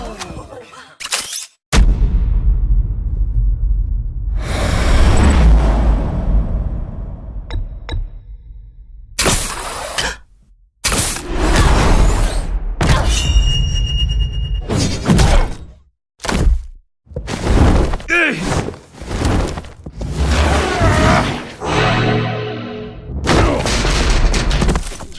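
Heavy booms, shattering crashes and bursts of gunfire from the Batman: The Enemy Within video game, loud and dense with only a few brief pauses between impacts.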